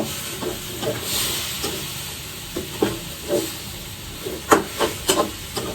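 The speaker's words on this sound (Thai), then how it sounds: "ผัดให้มันเข้ากันนะ" Minced pork with holy basil stir-fries in a hot pan, with a steady sizzle and hiss. Irregular clinks and scrapes from the stirring utensil grow sharper and more frequent toward the end.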